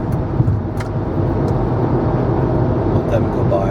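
A car cruises at night on a highway at 65 mph, with a loud continuous road and engine rumble and a little tire hiss.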